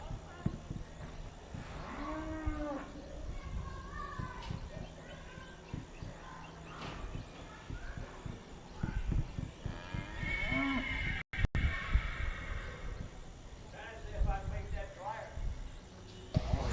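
Cattle moo repeatedly at a team roping event, the deep calls rising at intervals behind a steady announcer's voice over an arena public-address system.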